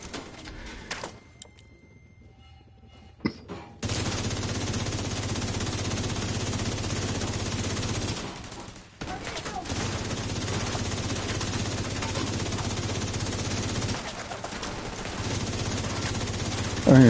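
Sustained automatic gunfire from a PvE shooter game, a dense steady rattle of rapid shots running almost without pause, with a short break partway through before the firing resumes.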